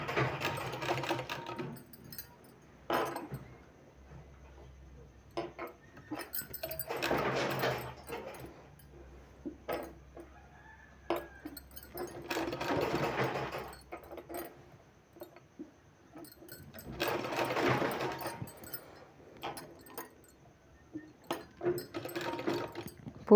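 A sewing machine stitches a sleeve with bead work, running in several bursts of a few seconds each, with short pauses between runs, close and moderately loud.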